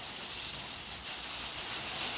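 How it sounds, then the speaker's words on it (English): Steady rain begins falling outside a garage where a 1975 Chevrolet Caprice convertible sits, a soft continuous hiss of drops on surfaces with no voices. "There goes the rain."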